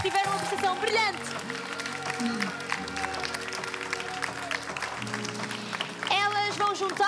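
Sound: audience applause for the pageant finalists

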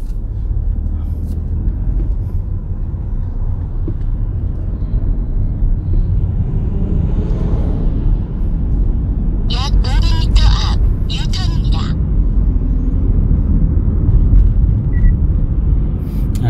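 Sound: car pulling away and driving on a driving-test road course

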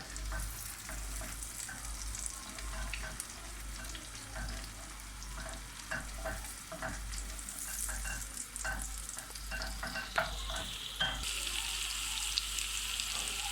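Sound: peppers frying in butter

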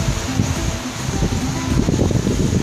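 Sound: strong wind at a beach

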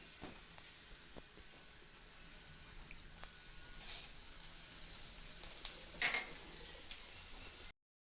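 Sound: dried red chillies frying in hot oil

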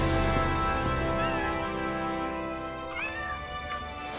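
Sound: cat meowing in video game Final Fantasy 7 Rebirth

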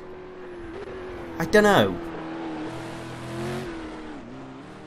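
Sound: Ford Falcon V8 Supercar engine in video game Project CARS

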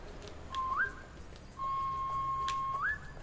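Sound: whistle blown in Beasts of Maravilla Island video game

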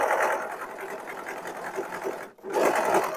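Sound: overlock sewing machine stitching jersey fabric

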